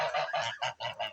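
Young geese honk in a quick series of loud, nasal calls, close by, with short gaps between bursts.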